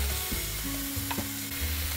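Meat sears in hot oil in a cast iron pan over high heat, a steady loud sizzle with a few clinks of a utensil, no talking.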